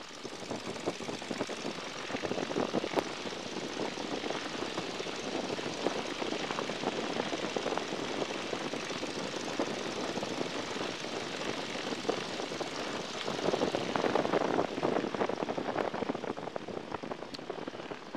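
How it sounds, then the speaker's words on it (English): A small propeller airplane engine run-up at the end of a runway roars steadily and loudly throughout, a continuous broadband drone with a slight swell in power near the end. "We check the engine here. Bring the power on in."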